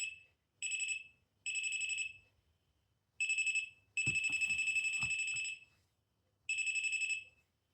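A homemade REM pod paranormal detector sounds a shrill, piercing electronic alarm in repeated beeping bursts of varying length, close and loud. A few faint knocks and handling sounds come through under one longer burst.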